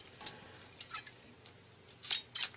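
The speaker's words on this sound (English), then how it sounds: "take your scissors," Scissors snipping tire rim tape on a KENDA sealant-compatible tire, several short, crisp cuts in irregular succession, close and fairly quiet against a near-silent background.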